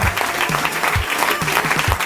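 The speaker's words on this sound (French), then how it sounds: "On applaudit le vainqueur du tour 2012 AFF, Jules Demel." An audience at the prize-giving of the 2012 AFF funboard windsurfing Classic Tour in Saint-Malo applauds the overall winner, a dense and steady burst of clapping from a close crowd lasting the whole moment.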